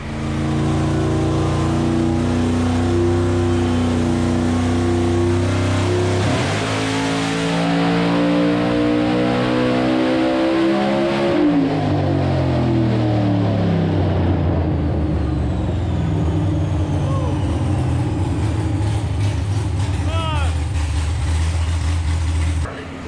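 Turbocharged COPO Camaro engine on a dyno, roaring loud and close as it climbs through a long pull, the pitch rising steadily before the revs drop back and the engine settles to a lower drone.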